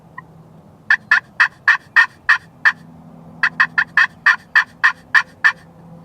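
Osceola wild turkey gobbling in Florida, two bursts of rapid rattling gobbles, each a run of about seven sharp pulses, fairly close and clear over a quiet background.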